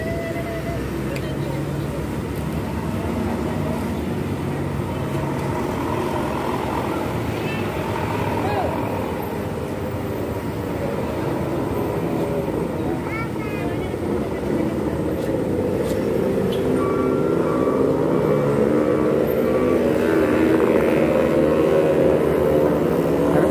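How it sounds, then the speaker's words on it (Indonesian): Vehicles stream along the mountain road at Sitinjau Lauik as a steady, continuous low engine rumble with passing swells, while someone talks over the traffic. "Ramai sekali ya kendaraan yang melintasi Si Tinjau Lawi ini."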